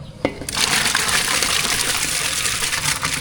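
Lentils and tomatoes for sambar are tipped into hot water in a pot on a cylinder gas stove: a quick knock, then a loud, continuous watery gush and slosh.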